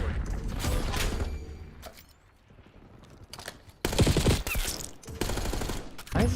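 Bursts of automatic gunfire in a Call of Duty hardpoint match, loud rapid rattling that drops away to a quieter lull mid-clip, then returns in heavy close-range volleys with mechanical clicks; no talking.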